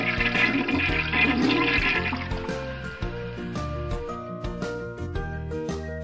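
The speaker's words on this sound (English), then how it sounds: "Oh, I can flush. I flushed the toilet that time." A toilet flushing in the video game At Home Alone Final, a loud rushing gurgle of water heard alone over a steady tonal game music backdrop.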